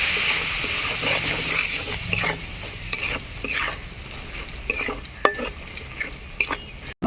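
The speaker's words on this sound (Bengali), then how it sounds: "একটুখানি জল দিয়ে ভালোভাবে মশলাটাকে কষিয়ে নেব।" Spice paste frying in a pan with a little water while a spoon stirs it, soft sizzling under repeated scraping strokes and occasional sharper clinks against the metal.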